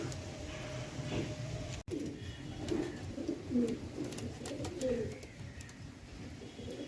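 Pigeons kept as a flock coo softly in repeated low bursts through the clip, moderately near, with a brief dropout early on and no talk.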